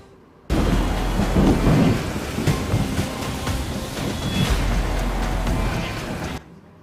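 Heavy rain pours down during a thunderstorm, a loud, continuous roar with deep rumbles of thunder rolling underneath before it cuts off.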